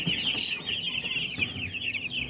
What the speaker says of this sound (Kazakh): Бұл 10 күн болған бройлер балапандары.